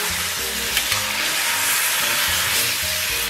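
Scallion, ginger, garlic and dried chili stir-fry in a wok for stewed pig tails, giving a loud, dense, continuous sizzle with scattered stirring clatter and no voices.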